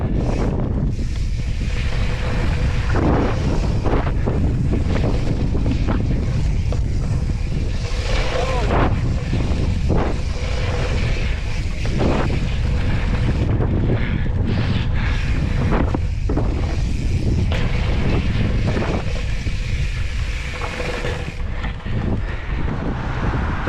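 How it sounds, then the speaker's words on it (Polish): Strong wind blows outdoors, roaring steadily across the microphone with heavy low rumble and gusty buffeting throughout, loud and close, with occasional speech underneath. "trochę wieje"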